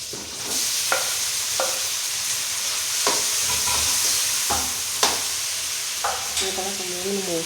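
Tomato pieces frying with onions and chili in a pan, a steady loud sizzle with several sharp stirring scrapes of a spoon across the pan, no talking.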